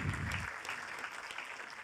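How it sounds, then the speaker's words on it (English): School audience clapping for the engineers at a Fakenham Academy event, a short burst of scattered applause at moderate distance that tapers off within two seconds. "Guys, clap all the engineers, please."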